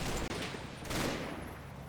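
Gunfire in the Combat Mission wargame as a platoon bounds forward, a dense muffled fusillade of rolling shots and rattling bursts that runs continuously through two seconds at moderate loudness.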